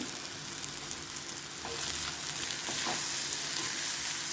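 Cassava pieces fry in oil with chili powder, a dense, steady sizzle that grows a little louder midway, with a few scraping stirs of a spatula against the pan, close and without speech.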